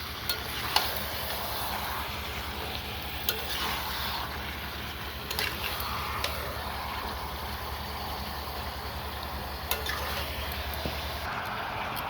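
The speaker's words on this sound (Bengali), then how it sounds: "মাংসটা দেওয়া হয়ে গেছে, এবার কষাইতে হবে।" Chicken pieces for a curry being stirred and fried in a pan, a low steady sizzle with intermittent scraping stirs and a constant low hum underneath, no talking.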